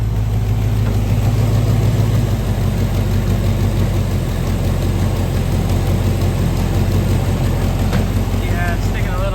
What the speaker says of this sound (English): my idle is actually, let's see if I zoom in there, really high right now